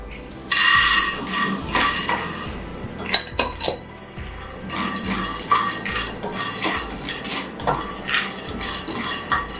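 Roasted flax seeds tipped from a pan into a pot, with metal utensils and cookware clinking and scraping in a busy, irregular clatter close by, no voices.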